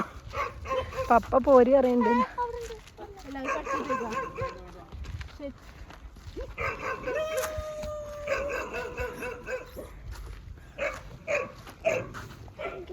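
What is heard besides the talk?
dogs barking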